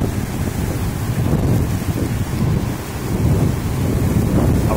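Heavy rain pours down while strong cyclone wind of over 150 km/h roars and buffets the microphone, a dense, loud, continuous storm with no voices.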